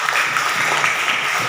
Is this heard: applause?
yes